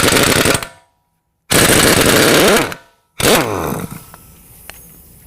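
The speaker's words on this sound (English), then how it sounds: "Best to use a big impact with this." A big impact wrench hammers at a 35 mm axle nut on a 2019 GMC Sierra 1500 in two loud, rattling bursts, then a third shorter burst that winds down as the nut spins free.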